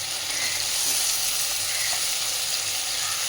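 Chopped onion and slit green chilies fry in oil with already-fried potato and eggplant, giving a steady, close, continuous sizzle and hiss with no talking.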